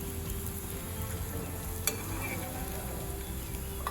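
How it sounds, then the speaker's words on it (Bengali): Malabar spinach leaf fritters fry in hot oil until golden brown, giving a constant, even sizzle and crackle with occasional faint stirring clicks. "এদিক ওদিক উল্টে ভালো করে বড়াগুলো গোল্ডেন ব্রাউন করে ভেজে নিলাম।"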